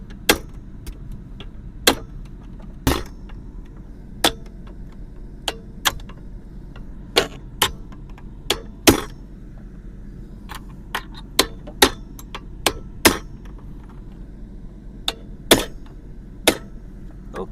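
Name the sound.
hammering a pin into Chevrolet Silverado center console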